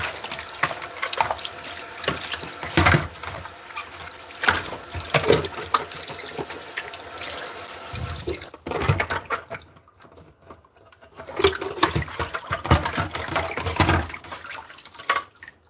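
Potatoes rinsed under a running kitchen tap, a steady close splash of water broken by a brief quieter gap before the flow and handling resume, with some sloshing and clatter.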